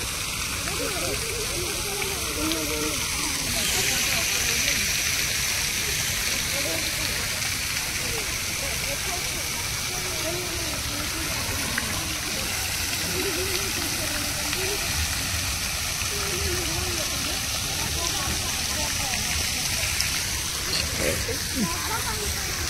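Water flows in a park with a steady, broad rushing hiss that continues for the whole stretch, while people talk and call out over it.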